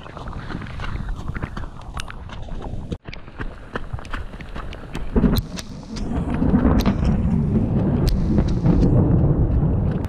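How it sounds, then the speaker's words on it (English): Thunder rumbling during a hailstorm on a frozen, slushy mountain trail in the Hardrock 100 mile race, a loud continuous roar with sharp crackles and a brief cutout, growing heavier toward the end. "We just survived a hailstorm. Thunder and lightning's going off all around us."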